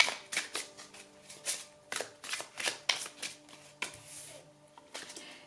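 Oracle cards being shuffled by hand in a run of quick riffling, slapping bursts, close and fairly quiet, with no talking.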